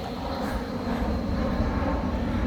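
Fixed-wing airplane flying overhead at the Caravan Salon trade fair in Düsseldorf, a steady, broad engine roar that swells slightly and holds loud throughout, with no talk over it.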